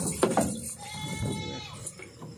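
A male goat at a livestock sale bleats in a couple of sharp, wavering calls over a noisy outdoor background, fairly close and moderately loud.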